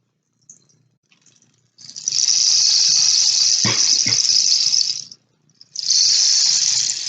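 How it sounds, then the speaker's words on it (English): A rain stick is tipped and shaken, giving a long, bright, hissing cascade of tiny pellets that pauses and then starts again, close and fairly loud. "This was our rain stick from our rainy day time together."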